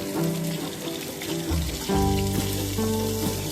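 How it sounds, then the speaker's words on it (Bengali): Pieces of katla fish fry in a pan of hot oil, giving a steady, close sizzle and crackle with a few sharper spits partway through. "বেশ ভালো করে আমি ভেজে নিলাম, তুলে নিচ্ছি মাছগুলো"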